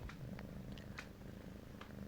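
A cat purrs softly and continuously up close, a faint low rumble with a few small clicks and rustles over it, no voices.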